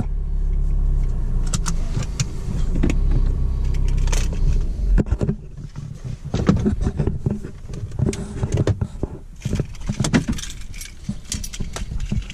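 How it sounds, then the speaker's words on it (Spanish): A car engine idles and shifts under clattering, jangling handling noises, with a few sharp knocks and metallic rattles close by. "¿Cómo me suena a mí este coche?"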